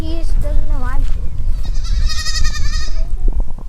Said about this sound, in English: all the rest of the goats are out grazing